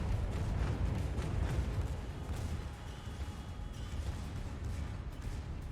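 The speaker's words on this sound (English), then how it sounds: "Secondaries open fire." Secondary guns of the Royal Navy battleship HMS Agincourt firing in World of Warships, a dense, continuous rumble of overlapping booms with sharper cracks scattered through, steady and loud without let-up.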